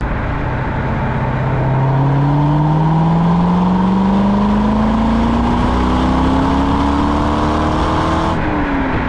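Loud, deep V8 engine of a Corvette C5 Z06 revving, its exhaust note climbing steadily in pitch, then dropping off sharply near the end.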